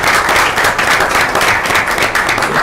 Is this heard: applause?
yes